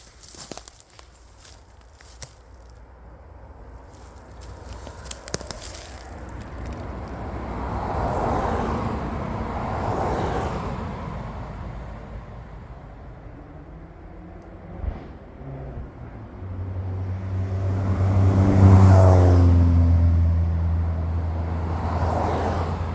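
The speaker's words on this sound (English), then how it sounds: "I can hear a car coming" A car approaches along a road and passes by, its engine swelling to a low rumble before fading, with footsteps and rustling nearby in woodland.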